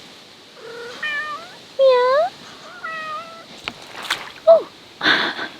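A pet cat meows repeatedly in the shade at a Portuguese homestead, several rising and falling mews spaced out close to the listener, with a short spoken word and some rustling and knocks nearby.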